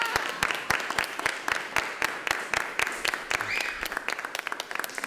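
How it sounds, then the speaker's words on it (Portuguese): An audience on a film set applauds with dense, overlapping claps. The clapping is moderately loud and continuous, then thins into scattered individual claps near the end. "Aplausos."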